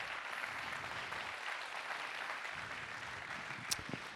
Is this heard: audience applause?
yes